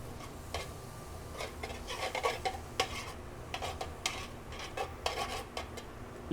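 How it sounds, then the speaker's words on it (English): Oil sizzles in a pan amid frequent clinks and scrapes of a utensil stirring, close by and busy, with no one talking. "Let's get a nice little sizzle on it."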